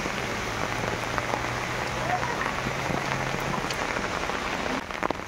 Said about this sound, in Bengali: বৃষ্টি নামছে, প্রচুর বৃষ্টি হইতেছে।